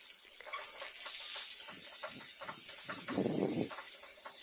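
Onions and tomatoes cut into large pieces frying in a little oil, a soft steady sizzle with occasional stirring scrapes, faint and close.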